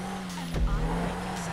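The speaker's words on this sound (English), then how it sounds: "The engine's turboed out." A turbocharged car engine in GTA 5 drones steadily with a low hum and a brief louder surge partway through, alone with no talk over it.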